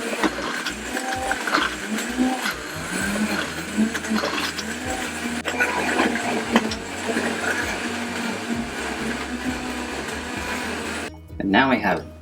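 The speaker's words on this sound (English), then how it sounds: "Our last step is to blend it up in the blender." A kitchen blender grinds dried yam pieces into flour, a loud, steady mechanical whir with a rattling grind that runs almost continuously, then cuts off briefly before a final short burst.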